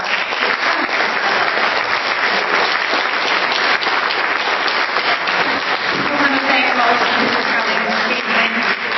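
Audience clapping at an evening event, a continuous, full round of applause from a crowd, loud and even, with voices faintly mixed in toward the end.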